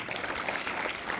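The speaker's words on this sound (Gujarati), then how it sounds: "આ સ્પર્ધકોએ જે ભાગ લીધો છે ને એને આપણે ધન્યવાદ આપી એના વચ્ચે એક તાળી પાડો કરો" An audience at a high school speech competition applauds the contestants with a brief, steady patter of clapping, moderately distant and fairly faint.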